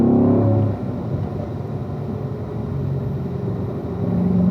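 A car engine pulls hard along a mountain racetrack during a driving session, a loud, near rumble that drops briefly after the first second and then builds steadily again as the car accelerates.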